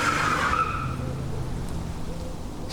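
Car engine note and tire noise as it pulls away at night, loudest at the start, then fading quickly to a faint low rumble in the distance.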